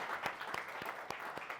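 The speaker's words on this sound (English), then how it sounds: "So a massive round of applause for Duke for that accomplishment." Audience applause at a live event celebrating an accomplishment, a moderate steady patter of clapping with a few sharper claps standing out, heard without voices over it.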